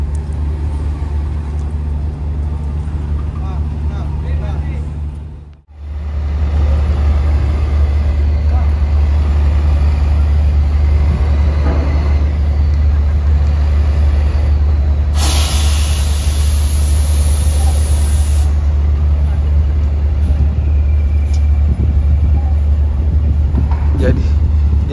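A bus drives off a ferry on the Lombok–Bali crossing: a heavy, steady engine rumble runs throughout, with a brief dropout near the start and a bright burst of air-brake hiss midway. Voices sound faintly in the background.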